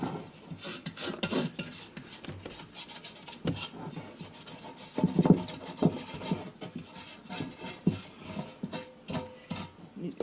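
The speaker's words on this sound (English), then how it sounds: "You take your scraper and really clean the bowl, because you still got a lot of good dough in there." A scraper drags around the inside of a mixing bowl to clean out leftover bread dough, close-up continuous rubbing and scraping strokes of moderate loudness.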